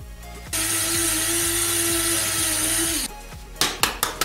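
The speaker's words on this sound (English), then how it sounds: "Now we need oats. I'm going to grind them into fine powder." Oats are ground into fine powder in a kitchen grinder on a small farm, a loud steady whirring hum of about two and a half seconds that cuts off, followed by a few sharp knocks.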